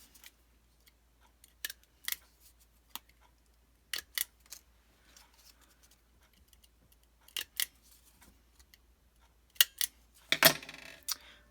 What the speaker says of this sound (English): I'm just going to put a staple on each side